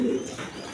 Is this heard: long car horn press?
no